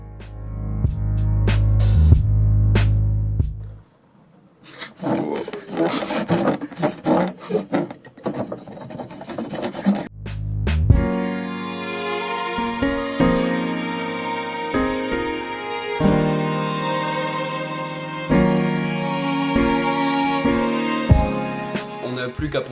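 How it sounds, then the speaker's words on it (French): A hacksaw cuts through wood in a long, rough rasping sequence of back-and-forth strokes, loud and close. Bursts of noise and other handling sounds come between the sawing passages. "on vous conseille d'utiliser une scie à métaux"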